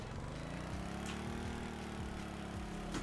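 A video-game boat engine, an Angler MK I, turning over and settling into a steady idle, with a low harmonic drone and rhythmic chugging pulses running continuously at close range.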